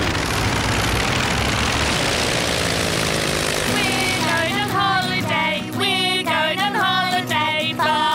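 A cartoon aircraft's engine drones loudly and steadily as it readies for takeoff, with voices and tonal sounds joining over the rumble in the second half.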